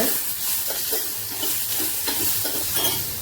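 Tomatoes are dropped into hot oil in a kadai with coriander and curry leaves, raising a steady sizzle and hiss. Soft scraping stirs sound close by throughout.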